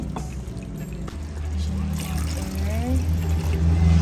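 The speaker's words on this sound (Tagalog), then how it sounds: "lagyan natin siya ng tubig" Water pours into a pan of beef and broccoli with oyster sauce on the stove, a short splashing trickle as the liquid hits the hot pan, while a voice speaks briefly over it.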